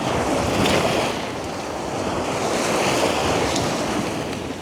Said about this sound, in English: West Beach is a rather long beach and there's several things to see along it, so we'll take a walk down the beach